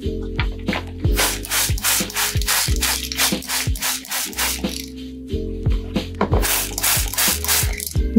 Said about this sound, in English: And I'm gonna give them a spray down.